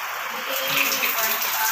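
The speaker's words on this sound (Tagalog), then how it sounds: "lalabas yung shower, yung tubig, pero cold water siya" Cold water runs from a built-in rain shower head in a home bathroom, a steady close hiss of falling spray with no pauses.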